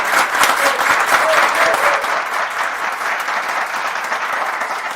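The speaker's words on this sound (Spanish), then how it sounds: "Un fuerte aplauso para ellos." Strong audience applause at an economics and finance masterclass, dense steady clapping from a large crowd that holds loud throughout and eases slightly toward the end.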